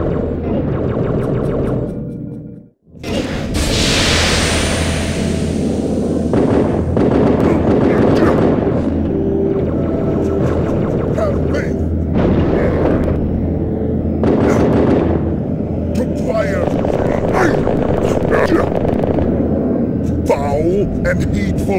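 Gunfire in the Halo 2 video game: dense, continuous bursts of shots and blasts mixed with battle noise, loud and close, running under speaking voices.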